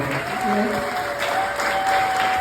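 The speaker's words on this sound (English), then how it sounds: "So we can a big round of applause as well" Audience at an alumni and entrepreneurs gathering applauding, continuous steady clapping of moderate loudness with a faint voice under it.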